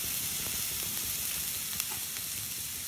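Onions and garlic frying in a pan for curried minced beef give a soft, even crackling sizzle throughout, with one brief sharp tick near the middle and no voices.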